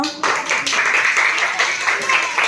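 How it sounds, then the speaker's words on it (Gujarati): A group of primary schoolchildren claps together in a dense, continuous patter, close and lively, starting abruptly and lasting a couple of seconds. "તો બધા તાળી પાડો"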